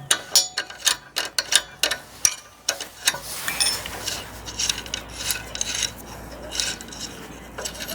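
Wrench loosening a 13 mm brake-arm nut on a 2021 Honda 70cc motorcycle during a drum brake shoe change: close, sharp repeated ratcheting clicks and metal clinks, then a rougher scraping stretch.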